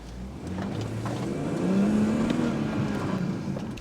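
A BMW M140i drives along with a steady engine drone that rises gently in pitch as it accelerates, close and moderately loud, with no voices.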